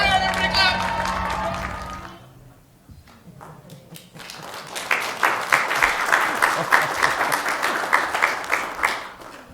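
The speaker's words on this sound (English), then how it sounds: "All right, everybody clap." Applause from the audience at a city council meeting celebrating Hawaiian Gardens' anniversary, starting after a sung phrase and a brief lull, then building into rhythmic, fairly close clapping from a crowd.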